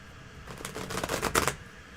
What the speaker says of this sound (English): Now I have to shuffle.